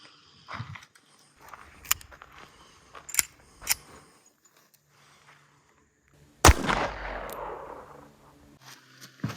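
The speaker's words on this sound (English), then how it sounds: "now it's time for the Colt shooting 32 ACP" A Colt 1903 pistol fires a .32 ACP round at level 2 body armor on an outdoor range: one loud sharp report with a decaying tail, after softer handling clicks and faint movement.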